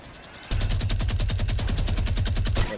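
Rapid automatic gunfire in Fortnite, a loud, close, evenly spaced burst of about twenty shots lasting two seconds before stopping abruptly.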